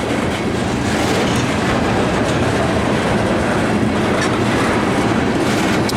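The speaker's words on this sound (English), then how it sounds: "this is the first train I've ever caught on the old P&N" A CSX freight train hauling loaded ethanol tank cars, some still iced over, rolls past close by on the former P&N line. It makes a loud, continuous rumble with steady wheel clatter and no voices.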